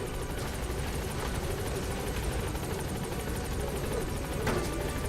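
A helicopter hovers and arrives at a landing zone in Metal Gear Solid V: The Phantom Pain, its rotor chop a steady, even thrum with a whining engine layered on top, continuous and fairly distant.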